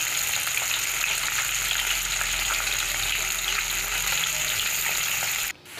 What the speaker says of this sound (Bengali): আমি একদিকে পাবদা মাছটা ভাজা বসিয়ে দিয়েছি, আর একদিকে যে কুমড়োটা করব না, সেই মুড়োটা ভাজছি।